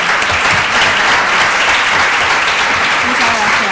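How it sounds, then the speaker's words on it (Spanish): Loud, sustained audience applause at a psychology conference on employability and entrepreneurship, a thick continuous roar of clapping with voices faintly audible underneath. "Un aplauso, por favor,"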